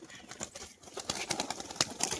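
A female pigeon flaps its wings close by in a quick series of soft, rustling bursts, with a few sharper wing claps along the way.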